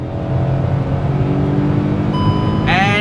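A 2020 Hyundai Venue iMT with clutchless manual gearbox revs hard at full kick-down in first gear toward 6,500 RPM, a loud, steady engine drone heard from inside the cabin with a rising whine near the end.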